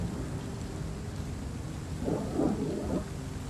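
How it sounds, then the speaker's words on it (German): Rolling thunder rumbles through a stormy night in the video game Vampyr, a low continuous roar with a swelling peak near the end, sounding fairly distant over a steady rainy background. "Ja, Gewitter."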